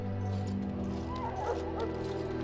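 A war hound barks and yips in the video game Dragon Age: Origins during a camp scene at Ostagar, with several short barks and a whimper over a steady low ambient drone.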